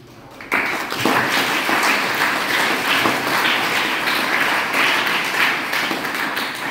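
An audience at a Hindi Divas gathering in an auditorium breaks into loud, sustained applause that starts abruptly and keeps going steadily, with many hands clapping together.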